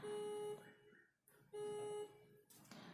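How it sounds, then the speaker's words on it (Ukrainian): A steady electronic beeping tone sounds twice from a distance outside an open window, each beep about half a second long, over faint background noise. "Чуєте, в мене вікно відчинено, вже там хтось пікає."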